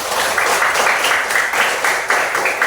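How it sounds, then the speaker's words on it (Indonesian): A class of schoolchildren clapping their hands together in a classroom, a brief burst of close, dense clapping with a few rhythmic swells, heard alone without talk. "tepuk tangan dulu buat kita semua"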